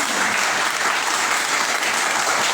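Dense, steady applause from an audience at an IMC business training program, a continuous wash of many hands clapping close and loud for the full stretch with no voices over it.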